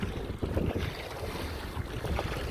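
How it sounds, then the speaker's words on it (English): Wind buffets an outdoor microphone, a steady rough rumbling roar with gusty swells, fairly faint and with no talking. "We're a bit windy today, viewers"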